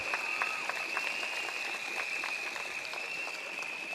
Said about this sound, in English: Give a big round of applause to Dr.